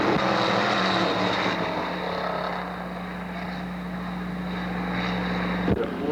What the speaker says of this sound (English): And we're racing off for turn 4.